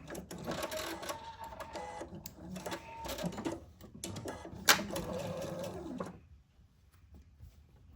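Sewing machine stitching a quilt seam, running in short close bursts with clicks and a sharp clack near the end before falling quiet.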